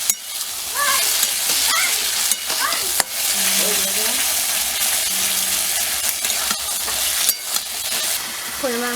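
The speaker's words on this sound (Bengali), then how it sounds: "শাকের মশলাটা দিয়ে দিলাম। একটু কষিয়ে নিচ্ছি।" Malabar spinach with spice paste frying in a pan, a steady close sizzle with repeated scraping and stirring clinks throughout, plus a few faint tonal squeaks.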